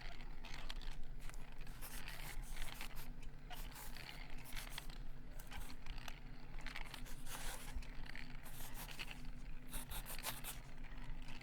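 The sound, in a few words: sketching a hand for reference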